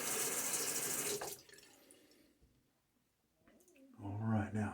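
A running tap rinsing during a wet shave, with a steady, moderately loud water rush at the start that stops, then returns near the end.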